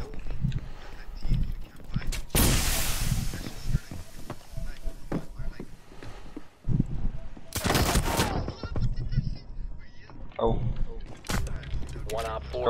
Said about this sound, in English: God, did he fucking shoot Junior?